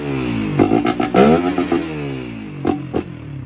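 Stock motorcycle engine on a Filipino build being revved in short bursts, several quick throttle blips clustered early then two more stabs, loud and close with rising and falling whine.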